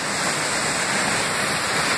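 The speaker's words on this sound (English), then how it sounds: "I'm at the lower falls on Mills Creek." Steady roar of the lower falls on Mills Creek in West Virginia, a waterfall about 65 feet high running a little low, heard as a continuous broadband rush of falling water, close and constant, with no voices.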